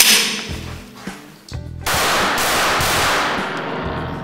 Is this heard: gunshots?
yes